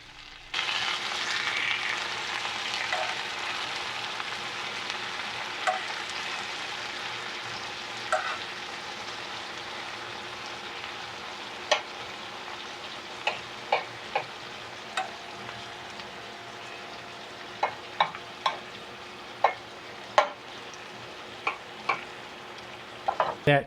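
Steady sizzling of sauce and cheese frying in a pan, a constant hiss with occasional sharp pops and crackles growing more frequent toward the end; no talking.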